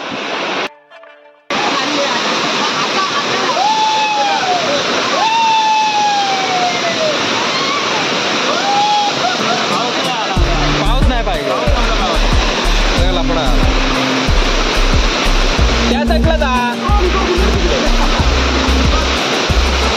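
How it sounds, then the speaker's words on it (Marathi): Heavy rain and a roaring waterfall at Sangameshwar in Konkan make a loud, steady rush. Voices talk over it, and a low rhythmic beat pulses through the second half. "हा धबधबा इकडं, आणि पाऊस आलाय जोरदार"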